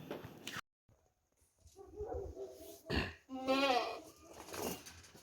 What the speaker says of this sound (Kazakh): Мынандай лақтар бар.